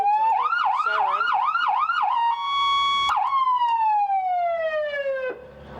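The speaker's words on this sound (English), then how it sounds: "This is a siren right here, and we have" An emergency vehicle siren cycles through its tones, a rapid yelp warbling for about two seconds, then a steady high wail that slowly glides down and cuts off. It is loud and close, with no talk.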